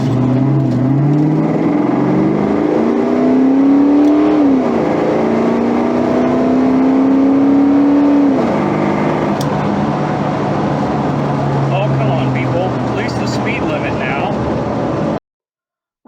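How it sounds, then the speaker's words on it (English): A Fox body Ford Mustang 5.0 with an AOD automatic accelerates hard on an eighth-mile run. Its loud, close engine note climbs steadily, breaking at two clear upshifts before settling into a steady high drone. "Run 3. This is a good flat ground right here. I did have a little bit of spin."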